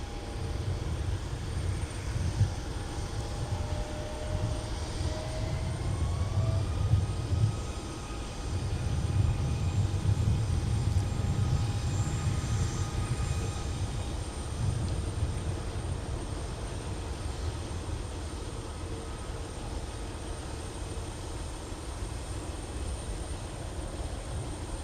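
An airliner takes off from a runway at MSP airport on a winter day, heard as a sustained far-off engine roar and rumble that swells and fades gently over about twenty-five seconds.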